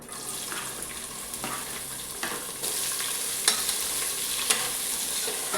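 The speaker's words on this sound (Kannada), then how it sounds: "ಈರುಳ್ಳಿ ಚೆನ್ನಾಗಿ ಫ್ರೈ ಆಗಿದೆ" Onions frying in a pan for mushroom pulao give a steady close sizzle, with a brighter, louder hiss partway through and occasional clicks of stirring.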